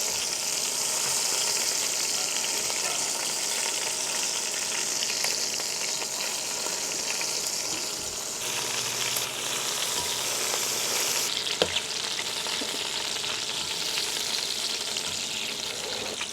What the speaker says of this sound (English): I have seared the pork belly on each side, not quite fully cooked